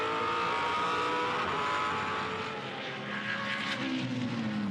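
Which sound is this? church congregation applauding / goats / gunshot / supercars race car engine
supercars race car engine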